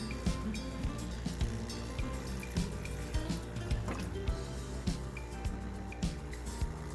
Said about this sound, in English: I'm going to add a ton of water